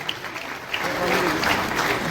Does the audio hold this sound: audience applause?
yes